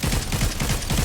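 A rapid volley of Fortnite gunshots, a dense, steady rattle of repeated shots at close range lasting about a second, with no talking.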